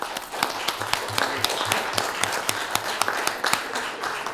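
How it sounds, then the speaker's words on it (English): Scattered applause at a city council meeting, a modest room of people clapping for a Winterfest presentation, uneven claps with small peaks rather than a full roar. "could we have a round of applause for Winterfest?"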